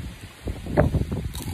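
Outdoor wind buffets a camera microphone in gusty, low rumbling bursts that swell and fade over a second or so, loud and close, with no clear talk.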